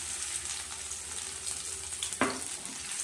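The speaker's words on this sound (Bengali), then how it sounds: "একটু লাল করে ভেজে নেব।" Crushed ginger and garlic fry in hot oil for sambar, giving a steady, soft sizzle with one brief stir or clink partway through and no talking.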